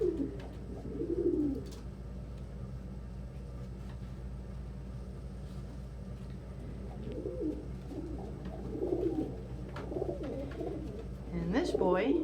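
Pigeon from a breeding loft softly cooing in a few separate bursts against a steady low hum, with quiet stretches between calls and a louder burst near the end.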